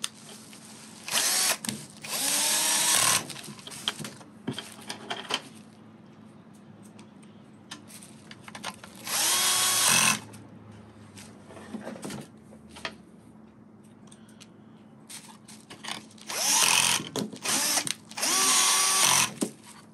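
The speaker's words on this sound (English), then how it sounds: "Put in those four screws on the side." A power drill drives four screws on the side of a CarPlay unit being installed in an Infiniti Q50, in about five loud, close whirring bursts separated by quiet pauses of handling.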